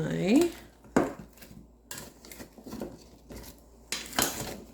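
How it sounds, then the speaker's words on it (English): A big spoon scrapes and clinks against a pan while roasted chicken and vegetables are stirred, giving several separate close knocks and scrapes with quiet pauses between them. "I'm going to stir that up"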